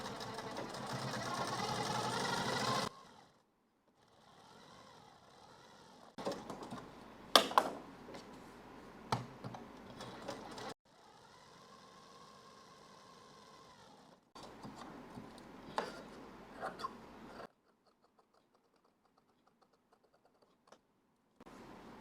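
Sewing machine stitches lining onto a blouse sleeve in separate runs, each burst of whirring and ticking broken by quiet pauses and handling clicks.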